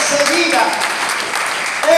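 A church congregation claps loudly and continuously for a couple of seconds during a sermon, with voices mixed into the applause.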